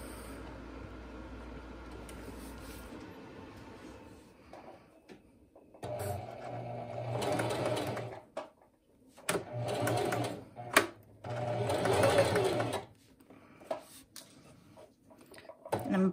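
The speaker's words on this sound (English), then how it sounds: "now we're ready to go ahead and sew our final shoulder seam" A sewing machine stitches the final shoulder seam of a princess-line bodice in short bursts of steady mechanical whirring, close up, with pauses between runs and quiet handling of fabric.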